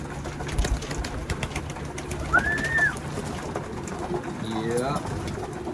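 Pigeons coo in short rising and falling calls at moderate distance, heard under steady background noise and someone talking.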